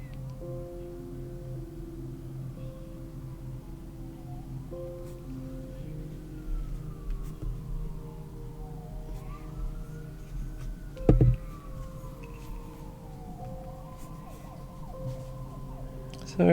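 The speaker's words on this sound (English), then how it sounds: "Sorry about the sirens." Emergency vehicle sirens wail outside, rising and falling across the whole stretch as they pass at a moderate distance, with a steady low room hum beneath and a brief knock partway through.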